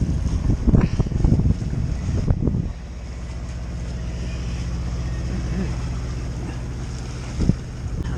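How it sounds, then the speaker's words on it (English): A Nova 28 sailboat motor-sails with a steady engine drone and wind noise; gusty wind buffets the microphone at first, then the low motor hum settles in alone. "Just motor sailing down to Manganui."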